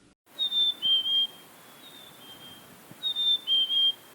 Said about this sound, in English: You might see a chickadee